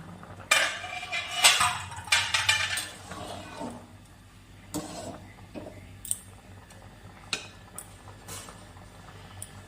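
A pot lid lifted off a pot of boiling peas and potatoes, with metallic clinks and clanks of cookware handling close by, followed by quieter scattered taps.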